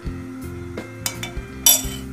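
A spoon knocks against a steel kadai while oil is added, giving several sharp metallic clinks at an uneven pace over a low, quiet background hum.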